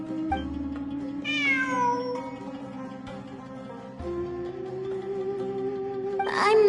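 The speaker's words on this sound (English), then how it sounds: "It really is a cat." A cat meows repeatedly in a video game while exploring ruins, the cries rising and falling over a steady droning background tone, fairly loud and close with no talking.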